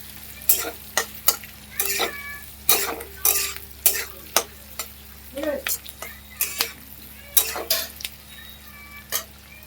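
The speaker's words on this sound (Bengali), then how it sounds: "এবার আঁচটা বাড়িয়ে নাড়াচাড়া করতে হবে পুরো ভাজতে দিব না হালকা ভাজবো এটা" Chilli chicken stirred and lightly fried over a high flame, a steady sizzle broken by repeated sharp scrapes and clatters of a spatula against the pan, close and fairly loud.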